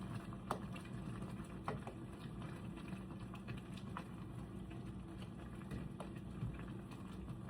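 Chicken and biscuit dumplings simmer in a pan on the stove, giving off a faint, steady bubbling patter with occasional soft pops and no voices.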